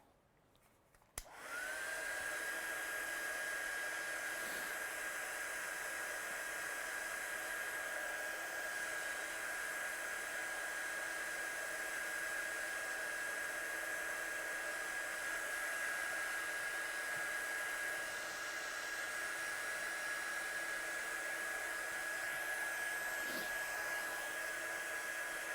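Hair dryer blowing steadily over watercolour paint on a stamped card, switching on with a click and then holding a continuous loud whine and airy rush for over twenty seconds, close by and with no talking.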